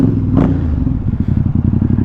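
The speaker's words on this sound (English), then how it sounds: "I got the Termi exhaust on this bike" Ducati XDiavel motorcycle fitted with a Termignoni exhaust, ridden at close range: a steady, deep engine rumble with a brief higher burst near the start, then a pulsing low exhaust note.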